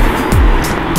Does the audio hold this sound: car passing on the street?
yes